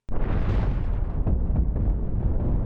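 Spaceship cannons fire and explosions boom in the space-battle game Cosmoteer, a dense, continuous low rumble of blasts with a few sharper bursts standing out, loud throughout with no talk.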